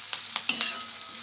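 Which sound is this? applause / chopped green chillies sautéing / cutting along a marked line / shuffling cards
chopped green chillies sautéing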